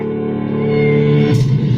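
A cat meows in a movie scene set in Rome, a single loud, close, drawn-out harmonic cry that bends upward near its end, with no talk.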